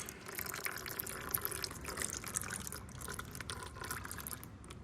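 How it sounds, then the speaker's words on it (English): Fluid draining from the cooler hoses of a 1996-1999 Ford Taurus transmission into a drain bucket, a steady soft trickle and patter of liquid running continuously at close range, with no talking. "now that the fluids are drained from the hoses"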